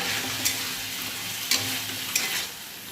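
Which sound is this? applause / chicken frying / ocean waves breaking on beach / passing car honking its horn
chicken frying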